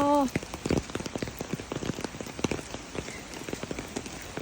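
Steady rain patters on a surface, with scattered drops tapping close by throughout; a brief tonal chirp sounds at the very start.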